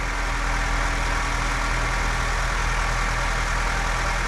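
A Honda Civic engine idles steadily just after being started, a constant low hum with a faint whine and no talking, even and unbroken throughout.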